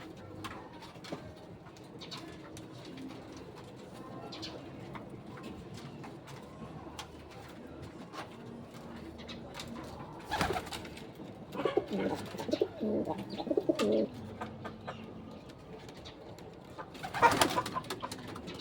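Termi Cross Basra racing pigeons give soft, low cooing calls that rise a little louder toward the end, over a quiet ambient background, with no one speaking.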